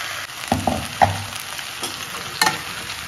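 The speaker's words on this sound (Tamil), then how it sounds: "இப்போ அரைச்ச மசாலாவை ஊற்றிக்கலாம்." Ground masala is poured into a frying pan for Chettinad cabbage kurma, giving a soft sizzle with several brief splashing and stirring bursts, close and quiet.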